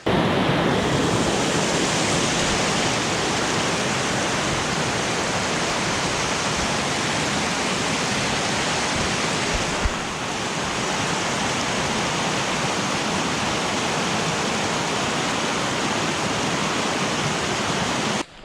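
A freestone mountain stream in a forest in Southcentral Pennsylvania rushes in a dense, continuous roar, loud and close, with a brief dip partway through and no voices over the flow.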